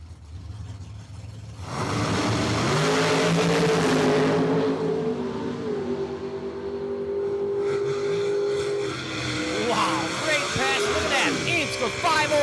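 Drag racing cars, including a '63 split-window, launch on a quarter-mile run at Cordova Dragway: engines roar up loudly and sustain a high, rising howl with gear changes, under an announcer's voice.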